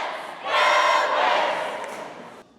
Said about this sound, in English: The Wildcats kick off the competition with a game day cheer